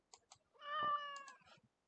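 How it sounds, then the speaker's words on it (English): A single clear cat meow in the video game Farming Simulator 17, drawn out and tonal, framed by a few soft clicks. "Hear that meow?"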